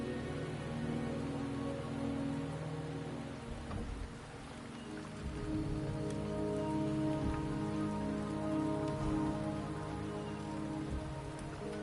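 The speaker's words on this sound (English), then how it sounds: "The rain is subsiding, and the sky will soon clear." Steady rain pours in the video game Wuthering Waves, a dense continuous wash of drops on surfaces under a sustained musical drone, with no talk.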